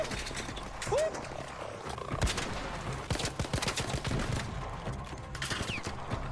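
Sniper gunfire in the ARC Raiders video game, sharp shots cracking out amid ongoing battle noise, with a speaking voice over parts of it.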